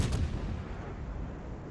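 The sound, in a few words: warship firing AP shell salvos in World of Warships video game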